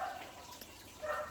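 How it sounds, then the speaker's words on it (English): Faint, distant dogs bark in two short bursts, at the start and again near the end, over quiet indoor room tone. "Oh look, now we've got dogs barking."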